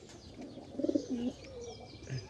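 A Gola pigeon coos softly in a quiet outdoor setting: a couple of short, bubbling low coos in the middle, then a faint final coo. The calls sit over light ambient noise with no speech.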